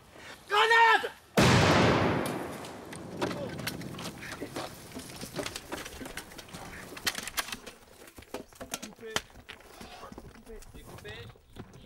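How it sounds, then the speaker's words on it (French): On a film set, a grenade explosion bursts loudly after a shouted call, followed by scattered gunfire shots and crackling impacts, with voices heard briefly over the action. "Grenade!"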